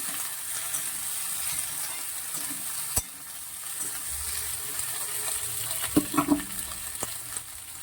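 Okra and onion frying together in hot oil in a wok give a soft, steady sizzle, broken by a few sharp utensil clinks and stirring knocks near the middle and end.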